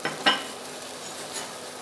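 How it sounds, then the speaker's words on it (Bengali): A pot of neem leaves boiling in water is stirred, giving two short scraping strokes close by, followed by a faint third one over a soft, steady bubbling hiss. "এখন ফুটতে আরম্ভ করেছে, আমরা দেখছি মাঝে মাঝে একটু নাড়িয়ে দিতে হবে"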